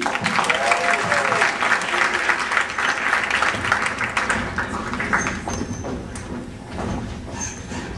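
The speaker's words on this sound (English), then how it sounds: "help me with a big round of applause" Comedy night audience applauding to welcome comedian JC, a sustained, fairly loud round of clapping from a crowd with some voices and cheers mixed in.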